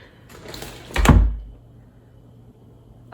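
A household door thuds as it is pushed shut, a single dull knock with a short rattle standing out above faint room noise.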